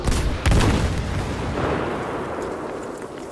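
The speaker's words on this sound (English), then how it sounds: "What's going on with these fucking airstrikes?" Airstrike explosions roar across a Battlefield V Firestorm match, a loud booming blast followed by a long rumbling, crackling wash of distant detonations that slowly fades.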